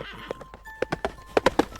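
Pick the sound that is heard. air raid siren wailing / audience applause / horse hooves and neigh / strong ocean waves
horse hooves and neigh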